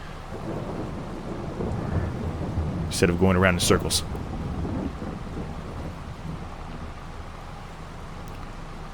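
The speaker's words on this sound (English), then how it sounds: "But hopefully this rain stops soon" Steady rain hiss fills the scene in Farming Simulator 22, with a brief louder rumble of thunder around the middle. Someone talks over it throughout.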